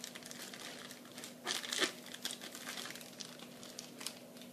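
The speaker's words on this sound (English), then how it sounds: "My batter's all in the Ziploc bag, and now what I'm going to do is I'm going to seal this, and as I do, squeeze the air out" Crinkling plastic from a Ziploc bag filled with donut batter being sealed and squeezed of air, a soft continuous rustle with a louder crumpling burst midway, close and alone.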